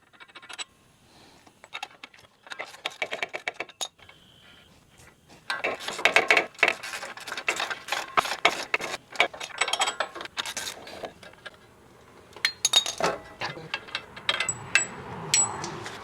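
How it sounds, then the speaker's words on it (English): A hand ratchet removes the four bolts holding a car's hub and wheel bearing assembly: repeated bursts of rapid metallic clicking up close, with short pauses and a few clanks between runs. "this is held on by 4 bolts on the back side, so go ahead and take those off"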